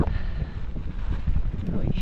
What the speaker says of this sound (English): got a bit of a headwind